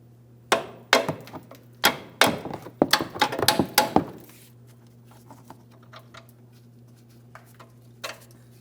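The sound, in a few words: tapping control arm cam bolt out of position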